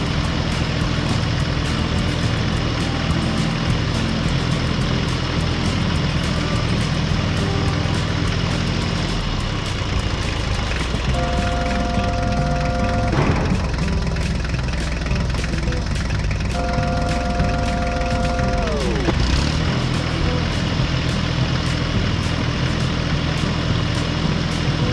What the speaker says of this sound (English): the tractor slowly drove over the newly paved road